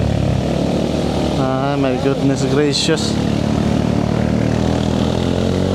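Camera drone flying during a motorcycle trip, giving a continuous propeller buzz with a rising and falling whine, while someone speaks a brief exclamation over it.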